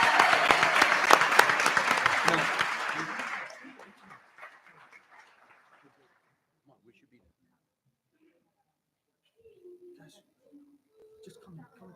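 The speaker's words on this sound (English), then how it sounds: "how about a nice round of applause for all our student ambassadors?" At a school board meeting, the audience claps for student ambassadors in a short round of applause that fades after a few seconds, followed by quiet with faint voices.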